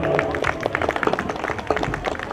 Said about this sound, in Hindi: हम सभी लोग एक बार अनुराधा शर्मा जी के लिए, जिन्होंने इतना भव्य कार्यक्रम कराया है, जोरदार ताली बजाकर स्वागत करें